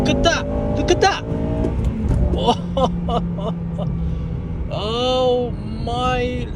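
A Honda Civic FN2 Type R engine is revved hard, its pitch climbing sharply in two rising sweeps as it pulls into VTEC, loud and close inside the car, with a voice talking over parts of it.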